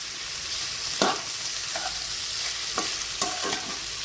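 Spices, salt and tomatoes are stir-fried in a pan, sizzling steadily up close while a spoon scrapes and stirs in several quick strokes, without any talking.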